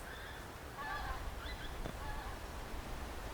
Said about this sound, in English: these amazing birds have travelled so far, honking away above me